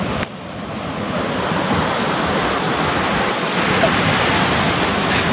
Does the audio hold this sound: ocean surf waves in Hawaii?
yes